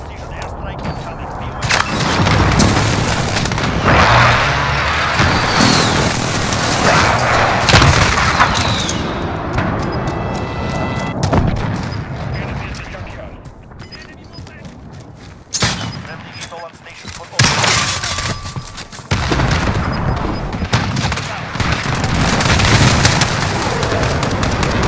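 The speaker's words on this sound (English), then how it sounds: "Allied precision airstrike is coming." Precision airstrike explosions and rattling gunfire fill a Call of Duty Modern Warfare battle, with heavy booms and bursts of shots repeating throughout, while radio-style voices speak over the din.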